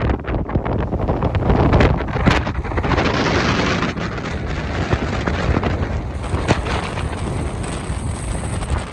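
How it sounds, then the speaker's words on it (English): An outdoor breeze in Death Valley buffets the microphone in continuous loud, rough rumbling gusts, close and uneven throughout, with no voices. "a nice little breeze is coming through"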